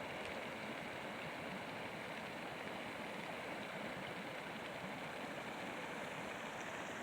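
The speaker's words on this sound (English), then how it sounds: "You hear it steaming? See it bubbling?" Steady, faint hiss and rushing of a Yellowstone hot spring bubbling and steaming, a continuous even noise with wind mixed in and no voices.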